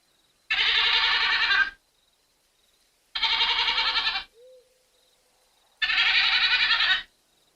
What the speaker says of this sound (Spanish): todavía se escucha el balido de un chivo que busca desesperado el camino de regreso a casa.